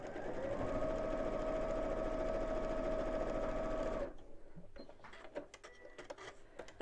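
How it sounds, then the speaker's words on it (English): A sewing machine stitches fabric in a steady, loud continuous whir for about four seconds, then stops, leaving faint clicks and small handling noises. "So let's just sew down here."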